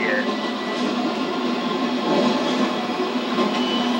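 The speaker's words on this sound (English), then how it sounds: "This is a big train." A loud, steady rumble of a train rolling along in a Batman Begins video game, with a continuous mechanical drone and faint rattling throughout.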